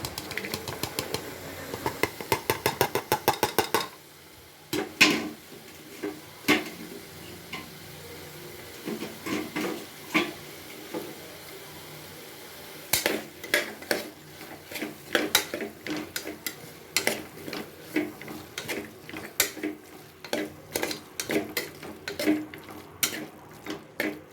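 Repeated clattering and scraping of a utensil stirring carrots and beans in a pan, with irregular bursts of clinks and a soft frying hiss underneath.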